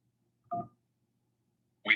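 Two short electronic telephone keypad tones sound on an automated phone menu, including a press of the pound key, each beep crisp and isolated against silence.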